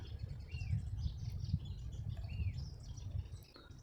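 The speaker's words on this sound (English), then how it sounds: "Coming up quite close to this bird now." A small bird near Cerro Otto above Bariloche gives a few faint, high chirps and short whistled calls over a low rumble of wind or handling noise.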